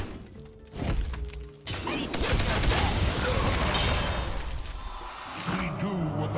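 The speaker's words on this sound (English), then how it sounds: "Here come the corpses for Corpse Explosion." Corpse Explosion spell going off among a swarm of minions in a video game, a dense rolling barrage of thuds, cracks and crashing bursts building into a loud sustained roar after a quieter opening.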